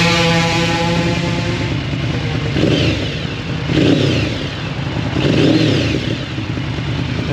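A 2016 Yamaha V-Max 60th anniversary motorcycle idles with a deep, steady rumble, then the rider blips the throttle twice, each rev swelling loud and close before falling back to idle.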